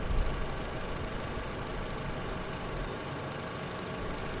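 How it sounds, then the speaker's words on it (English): A car engine holds an elevated idle during an alternator and charging system test, a steady, even rumble with constant drone and no change in pace. "This is with our engine idle elevated"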